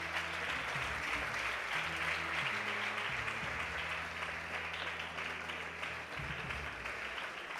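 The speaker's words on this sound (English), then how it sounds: "Give them a big round of applause" An audience at a space week valedictory ceremony applauds quiz prize winners, a steady wash of clapping heard from a distance, with a low droning tone running underneath throughout.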